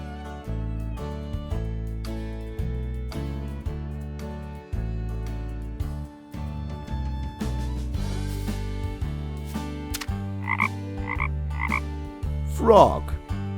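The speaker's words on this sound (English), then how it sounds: "Frog." A frog croaks in short, repeated bursts near the end, set against a steady, cheerful music track that runs throughout.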